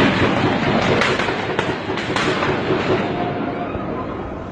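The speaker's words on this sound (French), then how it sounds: "Une fusillade." Dense bursts of sharp gunfire crackle during a terrorist shooting attack in France, heard from a distance amid broad noise, with several distinct cracks in the first two seconds before the din slowly fades.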